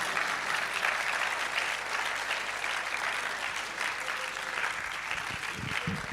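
An audience claps at a public lecture of the Ghana College of Physicians and Surgeons, sustained dense applause that holds steady and tapers slightly toward the end.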